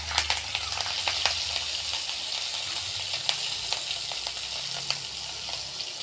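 Black cumin seeds and green chilies sizzle steadily in hot oil for a mustard pabda fish dish, a close, continuous frying hiss with scattered sharp crackles and pops throughout.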